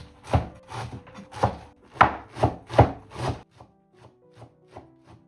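A heavy knife chops fresh herbs on a board for Dagestani chudu, about seven firm, evenly spaced thuds, then softer, lighter taps trailing off.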